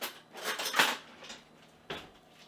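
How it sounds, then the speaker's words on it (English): Metal cutlery clinks and rattles as a tablespoon is picked out from among other utensils in a kitchen, with a short cluster of close jangling followed by a single brighter clink a moment later. "I'm going to grab a tablespoon"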